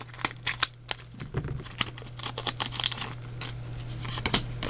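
Crinkly plastic rustling with sharp scissor snips and tearing as a Pokémon Ultra Moon booster pack is cut open, close up and fairly quiet, under a steady low hum.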